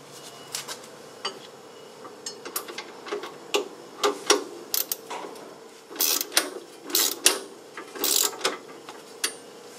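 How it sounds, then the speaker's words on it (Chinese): A wrench ratchets on the lower control arm bolt of a Mercedes W210 front suspension, a series of sharp, close metallic clicks and bursts in uneven rhythm, with no talking. "那我们现在要先锁的就是我们的下三脚架这一个螺丝"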